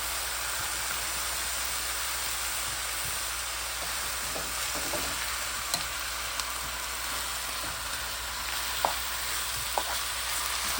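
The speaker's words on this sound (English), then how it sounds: "So I'm gonna go ahead and let the oil get hot, spread it around the pan, and we're gonna start cooking." Steak fries in hot oil in a pan, a constant dense hiss of sizzling that stays loud and even throughout, with a few faint pops and ticks on top.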